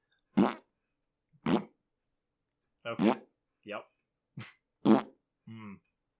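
Cartoonish fart sound effects from the children's program Microsoft Fine Artist pop out in a sparse series of short, separate bursts against silence, with a couple of brief spoken words mixed in.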